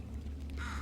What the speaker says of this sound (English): A bird took GLaDOS.